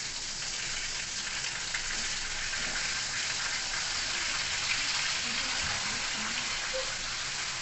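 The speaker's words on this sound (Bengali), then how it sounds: "আমি পটল ভাজা, হ্যাঁ তোমার জন্য করছি।" Pointed gourd (potol) slices frying in a pan give a steady, even sizzle throughout, with faint scattered pops and no talk over it.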